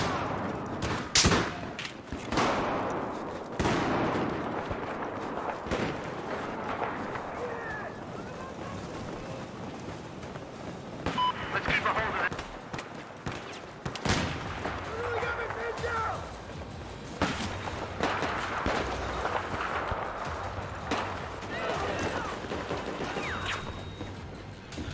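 Battlefield 4 multiplayer gunfire crackles in scattered bursts and single shots, some sharp and close, others distant, amid wind-like ambient noise.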